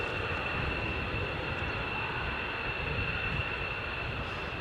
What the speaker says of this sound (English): So that one, C-130, doing touch and goes by the looks of it.